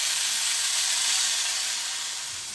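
Spinach added to a pan of frying vegetables gives a steady, close sizzling hiss that fades slightly toward the end, with no talking.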